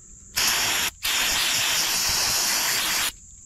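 Two close, loud bursts of aerosol cleaner spray a Honda Accord distributor, a short blast followed by a brief pause and then a longer steady hiss of about two seconds.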